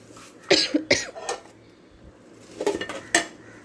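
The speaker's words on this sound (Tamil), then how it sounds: "லாஸ்ட்டாக வல்லாரக்கீரையும் போட்டு ஒரு பரட்டிட்டு" Pennywort leaves and chana dal being stirred in a pan, a few loud scraping clanks of a metal spoon against the pan in two bursts with quieter gaps between.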